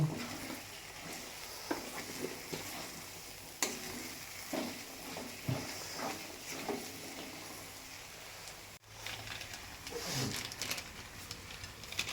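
A spice paste of ginger, garlic, tomato and turmeric sizzles faintly in a pan outdoors while a utensil scrapes and stirs in irregular strokes, with a soft, steady frying hiss underneath.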